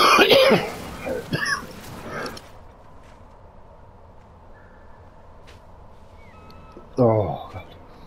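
A person coughs and clears their throat several times, harsh and close, in a burst at the start and again near the end, with a quiet pause between.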